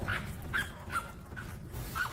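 A small dog whimpers and yips in short, high, repeated cries, about five in two seconds, close by over a low background murmur.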